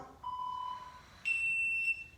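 A workout timer gives two steady electronic beeps during a leg cardio session: a lower tone lasting about half a second, then a higher, longer tone. Both are clear against a quiet room.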